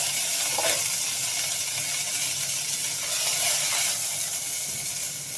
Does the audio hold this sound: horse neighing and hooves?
no